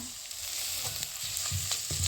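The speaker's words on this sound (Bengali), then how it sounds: "আদাটি একটু ভেজে নেব তারপর দিয়ে দেবো রসুন বাটা" Ginger paste frying in a pan with onions already browned, for a home-cooked wild mushroom and Malabar spinach dish. A steady close sizzle runs throughout with a few soft stirring scrapes and no talking.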